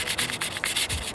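Fine-grit sandpaper rubs steadily across the feathered edge of a cured Bondo body-filler crack patch, a close, continuous rasping scrub with quick back-and-forth strokes, no voices.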